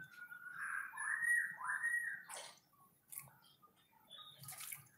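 A white-rumped shama whistles a bright warbling phrase, then quick splashes and flutters of water follow in short bursts as it bathes, close and fairly quiet.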